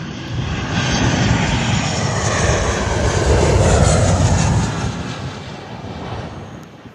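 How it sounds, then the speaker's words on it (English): A Virgin Australia Boeing 737 on approach to Runway 06 at Perth Airport, a loud, steady jet engine roar swelling as it passes overhead, then fading, heard close and alone. "We've got a Virgin Australia Boeing 737 on approach for Runway 6."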